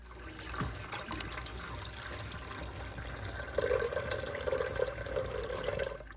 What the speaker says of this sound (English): Now we're going to get us about 4 cups of water, and we're just going to go ahead and pour it over in here.